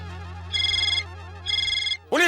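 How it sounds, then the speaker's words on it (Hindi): A mobile phone ringtone rings inside a police station, two repeated electronic melody bursts over a low background hum, followed by a short loud sound at the end. "आपका ही फोन बज रहा है।"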